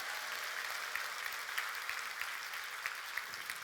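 A church congregation claps together during a Wednesday worship service, producing a fairly regular, rhythmic patter of many hands at moderate loudness, heard from some distance.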